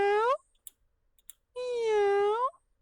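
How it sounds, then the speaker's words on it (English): A hungry cat gives two clear, drawn-out meows separated by a short pause with faint clicks. Both meows are close and loud with no talking. "hungry cat meowing for food"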